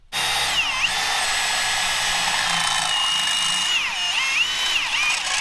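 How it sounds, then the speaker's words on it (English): A power drill whines steadily drilling holes in tow-truck metalwork, its pitch dipping and rising as the bit bites, loud and close throughout. "we gotta go and drill some holes"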